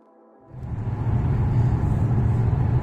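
Audi A7 50 TDI cruising on the motorway, heard from inside the cabin: after a brief quiet moment, a steady low engine and road rumble swells up and holds loud and even.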